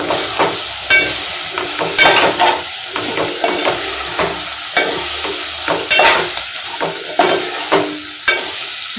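Prawns and masala frying in a pan for biryani, loud close sizzling with frequent rhythmic scrapes and clatters of a spatula stirring throughout.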